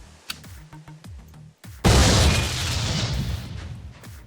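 A grenade detonates in the survival game Memories of Mars, a sudden loud, deep blast with a long rumbling tail, following faint clicks and thuds of in-game activity.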